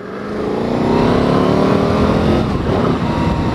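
A warmed-up Can-Am Spyder RS engine revs loud and close, its pitch climbing and then holding a strong, rasping roar for a few seconds with no talking.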